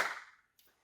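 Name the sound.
hands clapping two times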